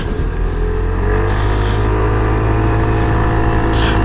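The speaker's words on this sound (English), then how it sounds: "The acceleration is damn good. I love on how this bike accelerates." A Piaggio Medley 150S scooter accelerates with a loud, steady engine drone and strong low rumble, mixed with wind buffeting throughout.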